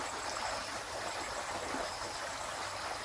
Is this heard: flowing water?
yes